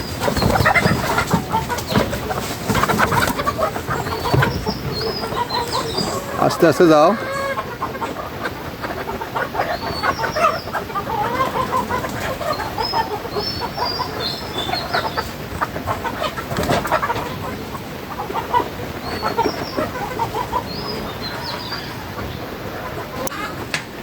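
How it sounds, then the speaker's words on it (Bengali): Sonali chickens cluck and murmur continuously, close by and moderately loud, with occasional rustling and a brief spoken voice partway through. "মুরগিগুলো সব ঢুকতেছে"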